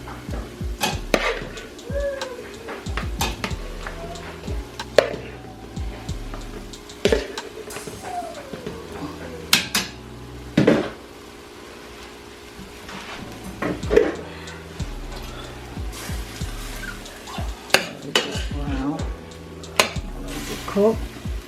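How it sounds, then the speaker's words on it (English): Shrimp for lo mein fry and get stirred in a pan under a low sizzle, broken by repeated sharp clinks and scrapes of a utensil on cookware at an uneven pace. No talking. "So now I'm gonna throw the shrimp in there."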